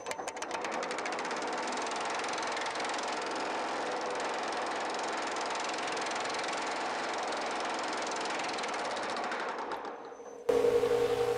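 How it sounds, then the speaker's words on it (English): Rapid, steady mechanical hammering of a power hammer crushing metal, a fast continuous pounding that runs for several seconds before stopping abruptly. "I decided to use the power hammer instead of the planishing hammer."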